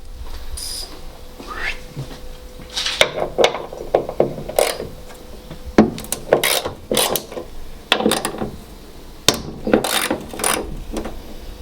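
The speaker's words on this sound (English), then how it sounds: "there's 2 bolts each side, 13mm socket, and just crack them off, each side first." A ratchet with a 13mm socket cracks off bolts on the front end of a VW T5 van, giving sharp clicking bursts and metallic snaps in irregular spurts, close and fairly loud.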